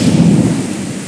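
A loud, continuous roar of severe thunderstorm rumble blends with heavy torrential rain, a brief dense burst of booming low thunder and downpour.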